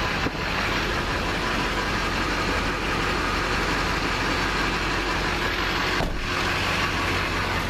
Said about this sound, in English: Hear the Duramax power.